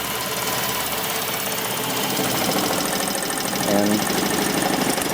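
A car engine runs roughly on hydroxy fuel, barely staying alive with an uneven, knocking, sputtering chug that stays loud and close throughout; a voice briefly speaks.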